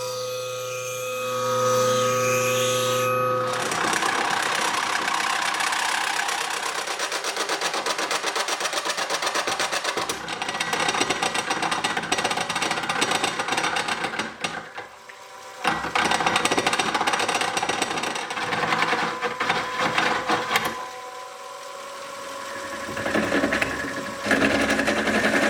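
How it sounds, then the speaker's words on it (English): Wood lathe turning snakeskin micarta with Rockler high-speed steel turning tools: a loud, rough, chattering scrape with a few brief breaks, after a short tonal hum at the start. "we're going to be turning with the Rockler ergonomic high-speed steel turning set"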